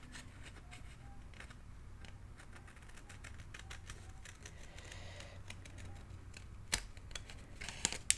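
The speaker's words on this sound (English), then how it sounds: "So I'm going to cut it again." Scissors cutting through cardstock for a winter-themed mini album, quiet repeated snips and crisp paper clicks close to the mic, faint overall with a few sharper snaps near the end and no talk.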